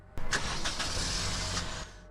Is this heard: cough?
no